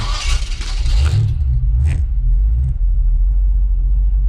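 A car fitted with a B&M 3000 high-stall converter starts up in a car park, a brief burst of cranking giving way to a steady, deep, loud idle rumble close by.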